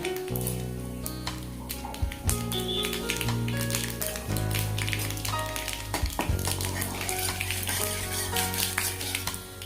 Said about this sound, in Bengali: এবার এর মধ্যে দিয়ে দেব শুকনো লঙ্কা, একটু ছিঁড়ে নেওয়া তেজপাতা আর একটু সর্ষে